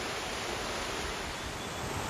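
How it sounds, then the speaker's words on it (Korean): Steady broadband rush of the right-hand fall of Ssangyong Falls in Seoraksan National Park, a continuous even roar of falling water filling the scene, with no voices. "이쪽은 쌍용폭포의 오른쪽에 있는 우폭입니다."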